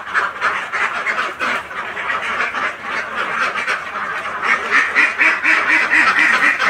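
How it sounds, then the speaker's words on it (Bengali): Ducks on a farm pond quack steadily and loudly through the whole stretch, a dense overlapping chorus of many birds close by, with no talking. "আমার হাঁস যেগুলো পানিতে আছে সেগুলো"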